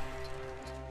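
Rhythmic clip-clop of horse hooves in Red Dead Redemption 2, steady and fairly close, over a constant low hum with no talking.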